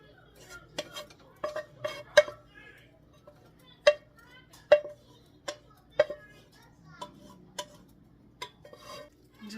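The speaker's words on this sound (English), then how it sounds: "And just mix this all together." Spoon stirring and mixing ingredients for an easy home recipe in a dish, with repeated sharp clinks of utensil against the bowl at an uneven rhythm, close by, while faint speech murmurs in the background.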